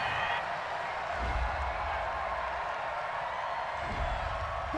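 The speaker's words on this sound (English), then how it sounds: "Well, the crowd doesn't like that." A large NFL stadium crowd during the Seahawks vs. Falcons NFC Championship game reacts to a penalty flag with a loud, continuous roar of distant voices and scattered cheering, with faint commentator talk over it.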